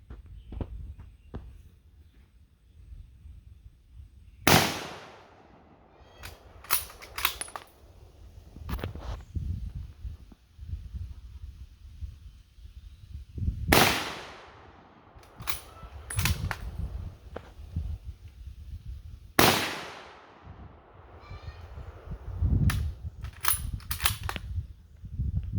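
A 1903 Springfield rifle fires 180 grain Hornady SST rounds outdoors. Three sharp, loud shots come several seconds apart, each followed by a brief echo, with handling clicks and low background rumble between them.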